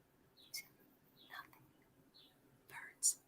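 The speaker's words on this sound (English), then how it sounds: "Birds." Faint, sparse high chirps from birds, a few short calls scattered over a very quiet background.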